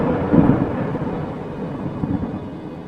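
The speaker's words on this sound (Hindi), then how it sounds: "तभी रास्ते में जोरदार बारिश शुरू हो जाती है।" Heavy rain pours steadily on an open road while a low rumble of thunder rolls through near the start and fades, forming a dense, continuous wash of sound with no voices.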